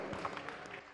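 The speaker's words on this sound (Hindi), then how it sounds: "एक बार जोरदार तालियों से पूज्य स्वामी जी का अभिनंदन" Audience applause at a Jain religious gathering honouring a revered swami, a short burst of steady, dense clapping filling the space throughout.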